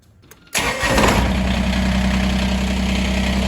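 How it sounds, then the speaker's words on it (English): Kubota BX2380 compact tractor engine cranks after a quiet pause, fires up abruptly and settles into a steady, close, loud idle with no talking. "we're gonna fire the tractor up"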